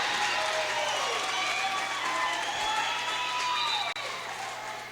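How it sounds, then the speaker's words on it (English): A crowd roars continuously at a high school volleyball game, loud and sustained with whistles and shouting blended in. "The crowd is definitely wild tonight."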